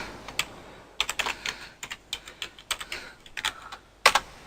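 Quick bursts of keystrokes on a computer keyboard, close and crisp, in irregular clusters with brief pauses and a sharper double tap near the end, no talking.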